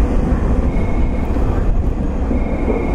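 A loud, steady low rumble of a JR West limited express train bound for Shin-Osaka, heard at Fukuchiyama station with a close, continuous roar and no speech.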